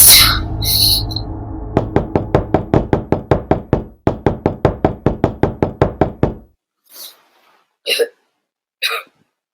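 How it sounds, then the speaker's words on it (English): Loud, rapid knocking on a door, a long rhythmic series of sharp raps in two bursts, followed by a few isolated fainter knocks after a pause, in a staged Macbeth scene. "Here's a knocking indeed."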